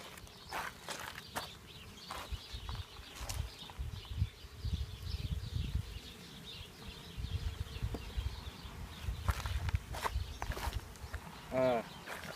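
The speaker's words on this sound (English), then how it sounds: "So we're going to go ahead and go through these now and sweep out the bees." Honeybees buzz faintly around honey frames as they are swept off in quick little strokes, soft brushing and handling noises mixed with someone talking over much of it.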